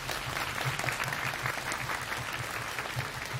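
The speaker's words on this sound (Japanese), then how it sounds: "じゃあまずは皆様のエールを込めて吹奏楽部の皆さんに拍手をお願いできますでしょう" An audience applauds a girls' high school brass band at an outdoor Netz Toyota Chubu festival in 2022, giving dense, continuous clapping from many hands with a faint low rhythmic thump underneath.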